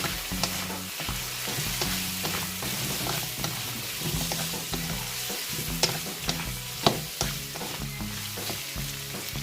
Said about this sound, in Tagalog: ilalagay na natin ulit yung ating na-fry na pork ribs